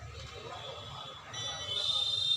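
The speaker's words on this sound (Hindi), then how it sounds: "बजर बजा और बंद हो गया।" A multimeter's continuity buzzer sounds during a capacitor test on a combo motherboard: a thin, steady high-pitched tone comes in partway through and holds, faint against a quiet room background.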